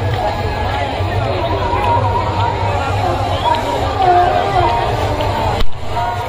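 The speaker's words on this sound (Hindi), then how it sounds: "देख सकते हो आप कितनी सारी भीड़ है यहाँ पे," A large crowd fills the Dussehra ground in Kota, Rajasthan, a dense, steady hubbub of many voices and movement close around, with someone talking over it.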